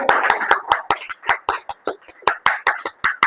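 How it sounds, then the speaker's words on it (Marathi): A church congregation clapping hands in unison to a quick, regular beat, sharp individual claps ringing close and loud, with faint voices murmuring between them. "जोरदार टाळ्या वाजवा प्रभूसाठी आपल्या."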